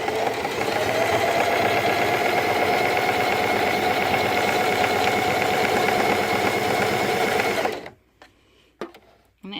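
A loud sewing machine stitches fabric pieces together for a cozy dog tunnel, running in a steady, continuous whir for about eight seconds before stopping abruptly, leaving only faint handling noises.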